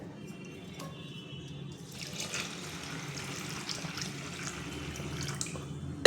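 After a quiet moment, water starts pouring steadily into a bowl of washed dal for soaking and keeps splashing and trickling for several seconds.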